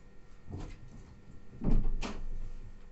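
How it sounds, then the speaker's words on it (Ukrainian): A home door is handled and swung open in a quiet indoor room, giving a few soft knocks and rattles of the latch and hinge, then a louder thud and creak as it opens. "Я зараз двері відкрию"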